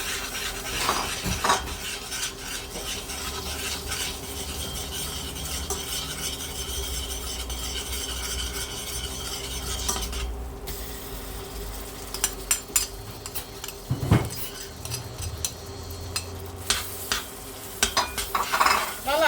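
Flour hisses and sizzles in hot oil while a spoon scrapes and stirs around the pot, with occasional clinks against the metal.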